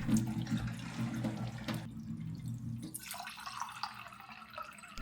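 Water running from a cold kitchen tap through an under-sink filter, a steady faint splash with drips in the sink that briefly changes texture partway through, with no talk.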